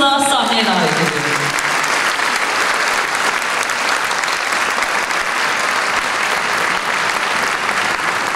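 Sustained audience applause at a concert, a dense wash of clapping from a large crowd that holds steady throughout after a brief musical tail at the start.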